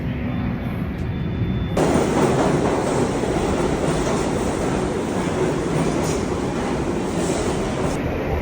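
A New York subway train rides along with a loud, steady rumble and rattle of the cars, and wheels clatter rhythmically the whole way through. No one speaks over it.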